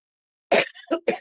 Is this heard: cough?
yes